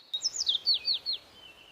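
A bird sings a quick series of bright, high chirping notes, about six in a row, clear and close with no other sounds.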